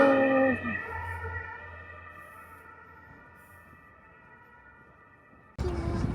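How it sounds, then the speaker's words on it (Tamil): An ambulance siren on a street in Frankfurt, Germany, wails loudly at first, then fades steadily into the distance over low traffic rumble before a sudden louder noise cuts in. "ஆம்புலன்ஸ்."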